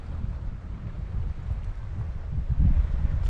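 Wind gusting across the sandy shore of Pine Lake on a cool, clouded-over day, a steady low rumble of microphone buffeting that swells louder near the end, with no voices.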